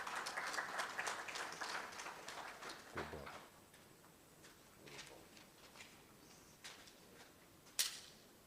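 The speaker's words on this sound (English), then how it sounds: "Shall we welcome him with a big round of applause?" Audience applause at a launch event on noncommunicable diseases in West Africa, a dense clatter of clapping that thins out partway through, leaving scattered claps and a few sharp isolated ones.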